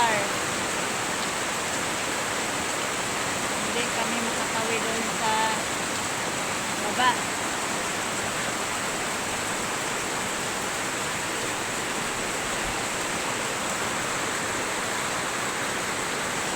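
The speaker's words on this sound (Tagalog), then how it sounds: "Maulan. O, kita mo yan guys. Yung ulan o." Heavy rain pours steadily on a rural home near a creek crossing, a dense, even hiss that holds throughout with no breaks and only faint, brief sounds rising above it.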